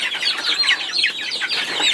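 Chickens clucking and chirping on a farm, a steady overlapping chorus of bird calls that stays close and fairly loud throughout, with no talking.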